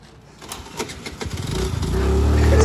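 A motorcycle being kick-started: a few rattling kicks and sputters, then the engine catches and settles into a rising, steady idle that grows louder and close by.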